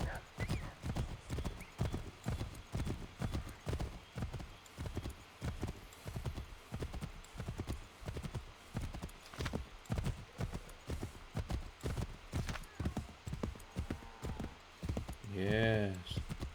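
A horse trots in Assassin's Creed III, its hooves beating a steady, even clip-clop for the whole stretch, with a whinny near the end.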